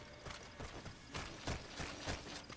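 Horse hooves clip-clop in a quiet, steady rhythm in the video game Metal Gear Solid 5: The Phantom Pain, with a mechanical clatter faintly behind the repeating hoofbeats.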